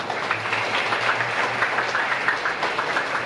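A church congregation at a Christmas Eve Mass claps together in a dense, continuous patter that stays at an even level for the whole stretch, filling the hall without any voices above it.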